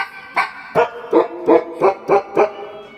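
Six synthetic dog barks from an electronic keyboard, evenly spaced and fairly loud, each a short harmonic yelp with no talking.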